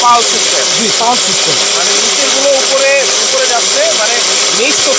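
A RICCO blender with a copper motor runs at high speed and whines loudly and steadily, with someone talking over the motor throughout.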